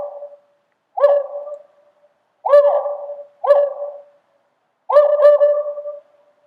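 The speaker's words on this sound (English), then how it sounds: "The owl's call came closer." An owl calls from woodland at the edge of a meadow: four loud, close hoots, each a short wavering series, spaced about a second apart with silence between.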